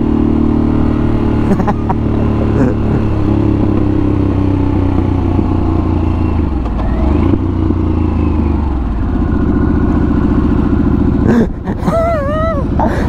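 A motorcycle engine, either a Harley-Davidson Sportster S or a Yamaha MT-09, drones loudly and continuously up close, shifting pitch as it revs and slows, with brief whistling near the end.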